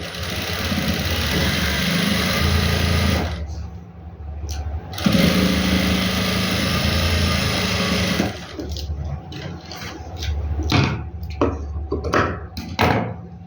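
An electric sewing machine stitches gum lace onto folded fabric, running in a loud steady whir for a few seconds, pausing briefly, running again, then stopping amid scattered handling clicks and rustles.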